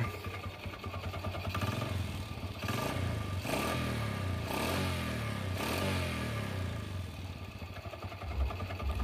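A Yamaha Jupiter Z motorcycle engine, which runs rough with a knocking sound, is revved repeatedly in several close rising surges over a steady running drone.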